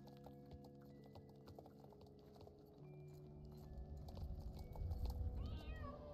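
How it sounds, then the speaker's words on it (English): A cat meows faintly in a horse-riding video game, over soft background music and quiet hoofbeat-like patter that grows louder toward the end. "Oh, it's a cat."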